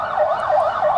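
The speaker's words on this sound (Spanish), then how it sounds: "Vemos que las ambulancias se van a retirar" An ambulance siren wails at an emergency drill in a town plaza, a loud, rapidly warbling electronic tone that rises and falls several times within a second, close by and sounding alone.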